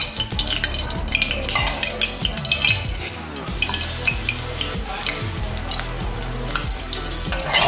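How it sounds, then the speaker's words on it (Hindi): Paneer chilli cooking in a kadhai: frying paneer sizzles steadily while a spatula scrapes and stirs repeatedly, close and loud throughout. "हमने ये सब फ्राई कर लिया है पनीर, और हम इसी कढ़ाई के अंदर ये सब चीज़ें डाल के ये पनीर चिल्ली रेडी करेंगे"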